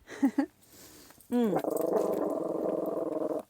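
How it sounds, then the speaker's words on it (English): A short bark and whine, then a dog's low, rumbling growl that continues steadily, close by and fairly loud. "No barking. No barking."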